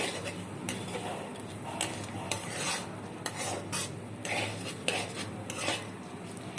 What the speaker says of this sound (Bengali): অল্প পরিমাণে আমি ভেজে নিচ্ছি লাল লাল করে।